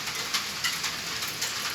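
Rain falling beyond a balcony, a steady broadband hiss of drops close by with faint irregular patters on surfaces, continuous and even throughout with no voices.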